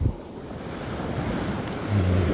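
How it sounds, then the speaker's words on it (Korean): Fairly strong waves break on Anmok Beach in the evening, a steady close wash of surf with wind rumble beneath that swells louder near the end; no voices. "파도가 약간 세게 칩니다"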